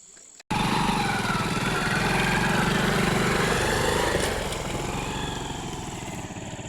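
A motorcycle engine kicks in abruptly and runs loud and steady nearby, a throaty rumble that eases slightly toward the end.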